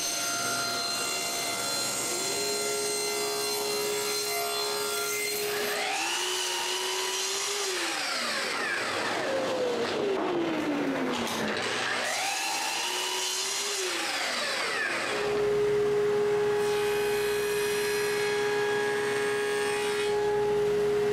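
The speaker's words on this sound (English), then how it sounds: "with a soft interface pad, the curved parts can be sanded" A power sander fitted with a soft interface pad works over curved wooden parts of a dog's urn, its motor whine rising and falling in pitch as it spins up and slows, steady and close with no talking.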